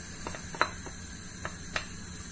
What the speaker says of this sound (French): Je mets mon oignon haché.